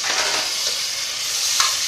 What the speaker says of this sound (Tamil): இந்த மாதிரி பொடி வந்து இப்படி எண்ணெயில் வதக்கி யூஸ் பண்ணும்போது நல்ல டேஸ்ட்டாக இருக்கும்